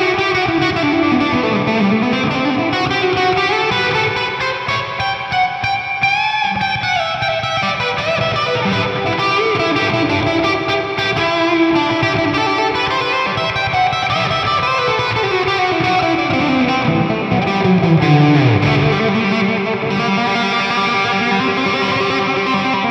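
Electric guitar played through a Boss RV-5 digital reverb pedal set for a stadium rock tone, distorted and heavily washed in reverb, with sustained chords and sweeping melodic lines ringing continuously and loudly for over twenty seconds.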